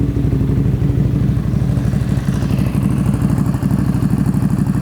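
A motorcycle with an aftermarket exhaust runs steadily nearby, a loud, rapid, pulsing engine rumble with mechanical clatter and no voices over it.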